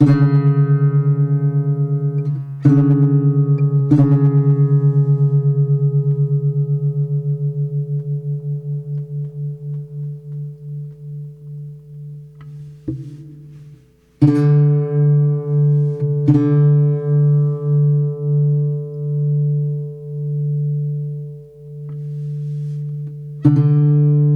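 A sustained plucked guitar note rings with a slow, pulsing beat as two strings drift out of tune against each other during tuning, re-plucked several times, wavering audibly.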